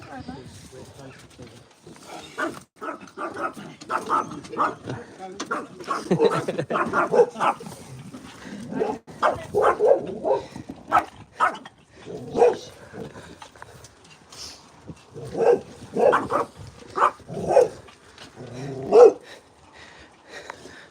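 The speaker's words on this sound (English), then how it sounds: "The chaos when you take the dogs out." Dogs out on a walk bark in short, loud bursts and whimper between them, a chaotic run of yelps spread across the whole stretch while people talk over them.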